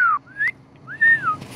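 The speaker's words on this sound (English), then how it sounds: "Keep whistling, girlfriend." Whistled notes from a match-3 mobile home-design game: three short rising and falling tones with gaps between them, clear and moderately loud over a quiet background.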